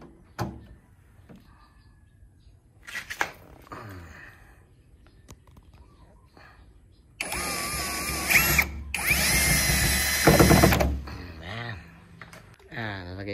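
A cordless power drill fitted with a screwdriver bit runs at low speed, a couple of whirring bursts in the latter half with handling clicks and short bits of talk before it.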